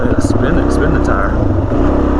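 A dirt bike on a muddy singletrack trail, its engine droning loud and steady at close range as the rear tire spins in mud, with a voice talking over it.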